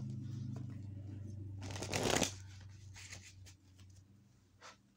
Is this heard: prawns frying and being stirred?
no